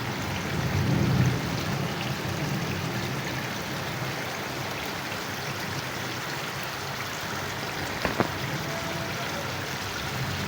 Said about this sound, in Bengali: বাইরে এত বৃষ্টি হচ্ছে আজকে বলার বাইরে